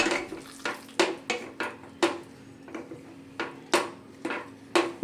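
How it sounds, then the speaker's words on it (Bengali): A spoon stirs paneer masala gravy after water is added to the pan, giving a string of sharp metallic scrapes and clinks in an irregular rhythm, close and clear over a faint steady hum. "জল দিয়ে খুব ভালো করে নেড়ে চেড়ে পনিরটা আমি ফুটিয়ে নেব"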